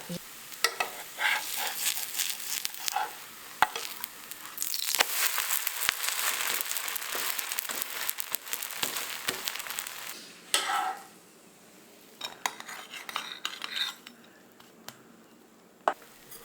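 Chila batter sizzles and fries in a pan while a utensil scrapes and stirs it, giving steady frying hiss with repeated clicks and scrapes, then quieter clinks at the end.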